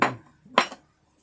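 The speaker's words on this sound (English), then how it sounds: "And I just knock it out with whatever tool I've got on hand." Two sharp knocks of a hand tool striking a sculpture to clear out a seam, each a crisp, close impact with a short ringing tail, separated by about half a second.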